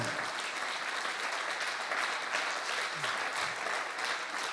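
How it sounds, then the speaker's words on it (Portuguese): A church congregation claps in a dense, steady wash of applause, fairly loud and continuous, with no voices rising above it. "Dá uma salva de palmas a Ele."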